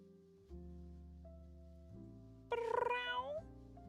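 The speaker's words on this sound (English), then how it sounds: "I hear you meowing." A pet cat meows in a short burst of rising and falling cries near the end, loud and close, over a steady low background hum.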